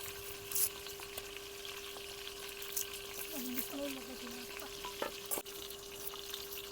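Whole brinjals fry in oil outdoors for a village-style curry, a faint, steady sizzle with a low electrical hum, a few light clinks and a brief murmur of voice.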